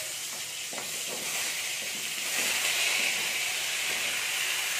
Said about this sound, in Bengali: তেলের মধ্যেতেই আমি কুমড়োগুলোও দিয়ে দিচ্ছি